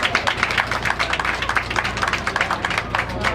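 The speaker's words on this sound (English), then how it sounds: "give yourself a nice round of applause" An audience claps in a continuous round of applause at a stand-up comedy show at a class reunion on a boat, with dense, even clapping throughout.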